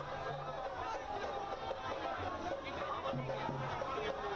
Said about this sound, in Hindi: गाड़ियों का काफिला, अमित शाह के साथ साथ ही लोगों की भी भारी भीड़।